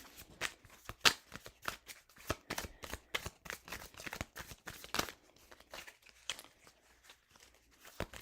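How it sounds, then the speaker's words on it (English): Tarot cards shuffled by hand in rapid crisp riffling bursts, close and fairly loud, with irregular rhythm and short pauses between flurries. "So I'm shuffling off camera."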